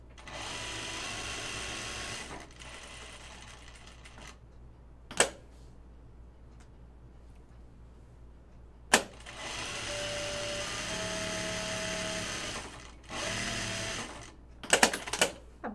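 A sewing machine stitches cloth napkins in bursts of fast, even whirring, with pauses between runs and a few sharp clicks in the quieter gaps.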